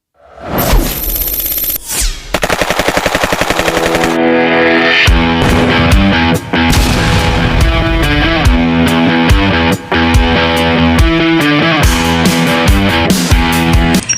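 A Mio Sporty scooter engine with a 59mm block and stock head, freshly rebuilt, revs loud and close, with dense harmonic buzzing and repeated throttle blips throughout.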